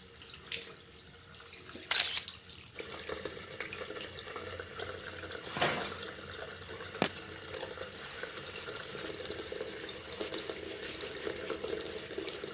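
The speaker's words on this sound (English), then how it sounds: "Rinse your hands and dry thoroughly." Tap water running steadily into a sink while hands are rinsed, a soft continuous splash broken by a few sharp knocks and clatters, close and fairly quiet with no talk.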